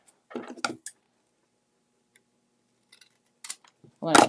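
Scissors cutting craft material for a Valentine project, a few short crisp snips in two small bursts separated by near silence.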